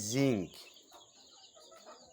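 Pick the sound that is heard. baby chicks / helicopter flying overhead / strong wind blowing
baby chicks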